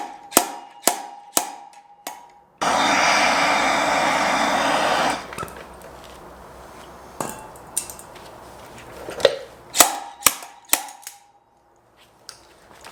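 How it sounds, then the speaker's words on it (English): Slide hammer yanking a metal tube from a KTM wheel during a wheel bearing replacement, a series of sharp metallic clanks in quick bursts, broken by a few seconds of a loud hissing blast. "Get our slide hammer on"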